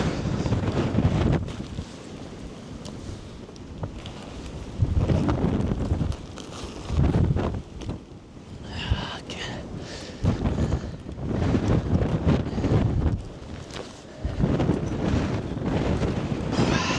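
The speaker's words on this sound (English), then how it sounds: "Super windy, really cold." Strong gusts buffet the microphone at a volcano eruption site in Iceland, a loud rumbling roar that surges and drops in waves over the whole stretch, alone without speech.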